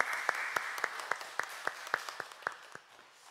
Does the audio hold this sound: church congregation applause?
yes